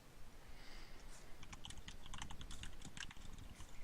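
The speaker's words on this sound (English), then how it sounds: "I hear keyboards." Quiet, rapid clicking of a computer keyboard heard faintly through a voice call, keystrokes scattered and bursty over a soft background hiss.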